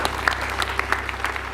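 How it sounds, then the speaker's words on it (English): Brief round of audience applause for a speaker at a business talk, quick individual claps standing out from a steady patter, close and fairly loud for under two seconds. "If you guys would give her a great round of applause."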